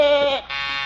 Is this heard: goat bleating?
yes